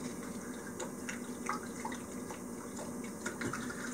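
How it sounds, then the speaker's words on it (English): Vodka poured into a bowl of horseradish puree, a steady close liquid trickle and splash running continuously with small bursts, no talk. "What I'm going to do now is pour the rest of the vodka in here."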